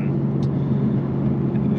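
A 2021 BMW G80 M3 with its turbo engine pulls hard, a steady low droning rumble from the cabin that holds constant, briefly alone with faint background noise.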